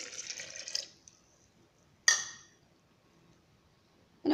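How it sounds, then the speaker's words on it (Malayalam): A cup of water poured into blended papaya for papaya juice: a brief splashing pour at the start, then a single sharp clink or splash around two seconds, with quiet stillness between. "1 കപ്പ് വെള്ളം ഒഴിച്ച് കൊടുക്കാം ഇതിനകത്തോട്ട്."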